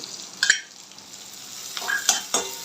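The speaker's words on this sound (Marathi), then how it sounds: "आता हे तळत आलं की ह्याच्यामध्ये एक उभा चिरलेला कांदा ॲड करते मी" Green chillies and sliced onion frying in oil for chilli paneer fried rice, a faint background sizzle broken by several sharp clinks and scrapes of stirring.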